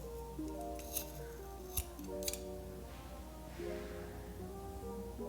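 Scissors trim the cord ends of a square knot sinnet, giving a few faint, sharp snips spaced a second or so apart over quiet, steady background music.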